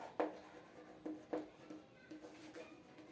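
A teacher writes an answer on a board during a 10th-grade maths lesson on coordinate geometry, with short scratchy strokes in irregular bursts, close and fairly quiet in an otherwise still room.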